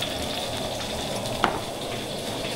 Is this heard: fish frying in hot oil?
yes